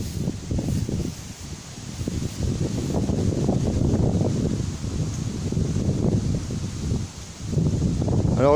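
Wind pushes against an anti-hornet tent of 6 mm mesh at a beehive in Montgeron, a continuous rustling, blustery rush that gusts and lingers for several seconds with no voices.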